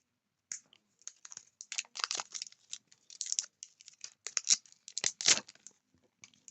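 Sticky plastic packaging is peeled and unwrapped from around a new laptop, with close, sharp crinkling and tearing bursts coming in irregular clusters between brief quiet gaps.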